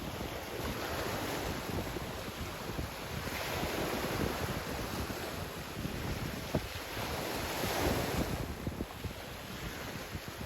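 Ocean waves and wind while pump foiling at sea, a continuous broad rushing wash with wind buffeting the microphone, steady and fairly loud, no voices.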